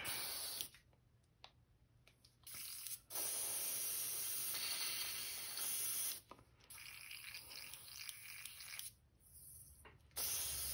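An airbrush sprays paint onto a Psycho Shad crankbait lure in long hissing bursts broken by short pauses, close and fairly loud, with no one talking.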